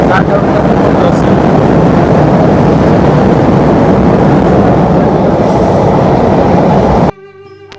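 The Chitra Express rumbles loudly and steadily through Tangail station, a dense continuous roar of wheels on rails that cuts out abruptly near the end.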